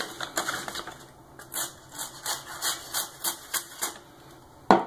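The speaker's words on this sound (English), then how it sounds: "It's actually tearing the paper." A knife blade, such as a 1095 carbon steel Krovan, tears through paper in a sharpness test, giving a run of crisp, evenly spaced ripping and scraping strokes close up, ending in a sharp knock.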